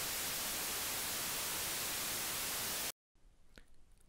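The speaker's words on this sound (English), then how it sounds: "White noise sounds like this." Loud, even white noise hisses steadily for about three seconds, then cuts off abruptly into near silence.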